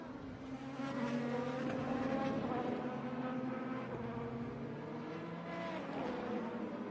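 IndyCar race car, a Honda-powered entry at The Thermal Club, braking hard into pit lane with a locking-up pass, engine whine dropping in pitch as it slows, steady and mid-distance.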